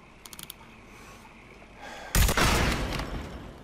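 Sniper rifle shot in the Mafia 3 video game, a single loud, sharp blast partway through that rings out with a decaying tail, preceded by a few quick mechanical clicks.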